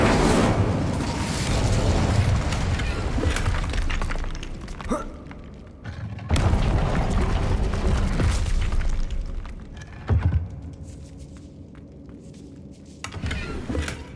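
A fire spell cast in the video game Hogwarts Legacy: loud, roaring bursts of flame with booming, crackling impacts, repeated in waves over combat noise.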